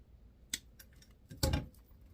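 Scissors snipping artificial flower stems while making a Dollar Tree Easter door hanger, two quiet close cuts, the second louder and longer, in a still room.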